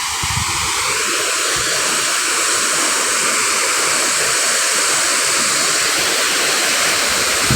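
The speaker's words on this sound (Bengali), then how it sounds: "এই জায়গা পড়ছি পুরো ঝর্ণার মতন।" Water pours down like a waterfall in a loud, continuous, close rush of broadband roaring hiss that stays steady from start to finish, with no voices.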